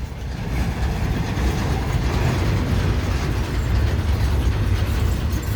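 A freight train with a distributed power unit at the rear rolls past at close range, a loud steady rumble with clacking wheels and rattling cars throughout.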